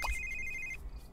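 A phone in The Sims 3 rings with a single bright electronic tone held for under a second, then cuts off, faint against a quiet room background.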